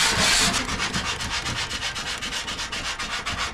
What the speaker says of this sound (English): get out the industrial strength grinders and strip this thing down a layer or two of the steel